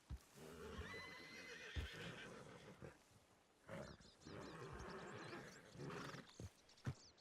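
A horse in a Red Dead ranch roleplay game gives several loud whinnies and snorts, with sharp thumps and hoof clops between the calls, fairly close and with no talking.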